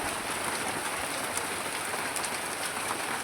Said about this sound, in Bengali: দেখো সকাল সকাল দেখো বৃষ্টি হচ্ছে, এখন খুবই মেঘ ডাকছে